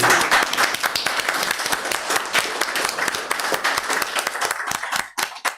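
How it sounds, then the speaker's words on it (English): An audience at a council meeting gives a round of applause. Dense, brisk clapping holds steady for several seconds, then thins out into a few scattered final claps. "are we allowed to give a little round of applause?"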